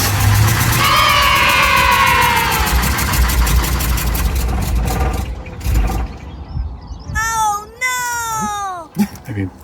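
An Audi Coupe engine, just fitted with a new fuel filter, cranks and catches, then holds a steady, loud idle with a rough mid-range drone; talk and a higher whine rise over it toward the end.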